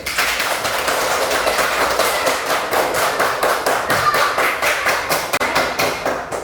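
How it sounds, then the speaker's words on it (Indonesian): Classroom group applause from students, a steady patter of many hands clapping close by, continuous and fairly loud with uneven rhythm. "Tepuk tangan untuk kita semua dulu."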